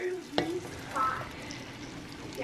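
Drained canned green beans and bacon sizzle in melted butter in a pan, a soft steady crackle broken by a sharp clank of a utensil and stirring scrapes.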